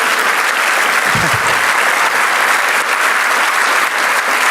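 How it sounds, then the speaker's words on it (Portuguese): Loud, sustained audience applause at an official event with the president of Caixa, dense clapping from a large crowd holding steady from start to finish. "Então eu gostaria de uma salva de palmas."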